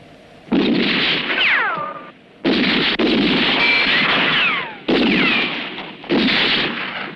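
Rifle gunfire in a western film comes as four loud, sustained bursts of shots, some trailing off in whining, falling ricochet sounds, with short gaps between them.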